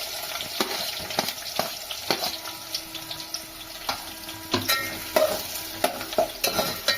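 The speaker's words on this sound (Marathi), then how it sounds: "लसूण तळून झाल्यानंतर कांदा कांदा घालायचा" Onion frying in oil after garlic for an Agri Koli chicken and bombil dish: a steady close sizzle punctuated by repeated scraping stirs and clinks against the pan, without speech.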